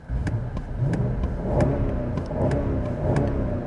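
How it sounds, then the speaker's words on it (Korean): A BMW M850i Gran Coupe V8 gasoline engine, started warm, idles with a deep, steady rumble and slight revving swells, close by and loud, with no voices. "브레이크를 밟고 냉간시가 아니기 때문에 이런 식으로 엔진이 켜지는데"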